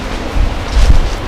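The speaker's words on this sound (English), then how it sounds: "It's quite windy." Strong wind buffets a microphone on a UK shoreline during March sea fishing, with low rumbling gusts that swell twice and surf faintly audible beneath.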